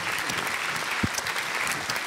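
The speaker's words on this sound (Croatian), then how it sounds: "molim jedan aplauz za Mareta." Studio audience applause on a TV show, a steady wash of clapping throughout with a brief low thump near the middle.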